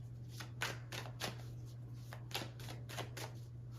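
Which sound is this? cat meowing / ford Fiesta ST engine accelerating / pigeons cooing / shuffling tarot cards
shuffling tarot cards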